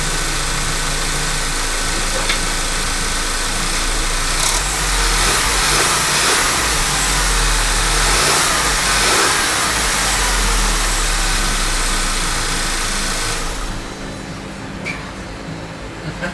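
A 2009 Volkswagen CC 2.0 TSI engine, running again after a cam chain tensioner repair, idles steadily up close and rises through a few revs before settling back toward idle.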